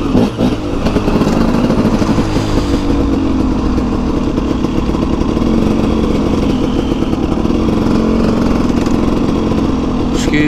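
A KTM 300 two-stroke dirt bike engine rides through city streets, loud and close, with a steady buzzing drone and small shifts in revs throughout.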